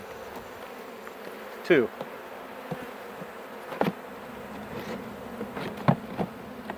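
Honey bees buzz around an open hive while a package of bees is installed, with a few loud close passes standing out over a faint steady hum and soft handling noises.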